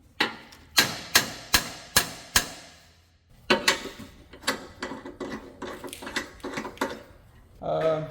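Sharp hammer blows on metal during the rebuild of an abandoned private jet once owned by Elvis Presley: five evenly spaced loud strikes, a pause, then a faster run of lighter taps with workshop clatter.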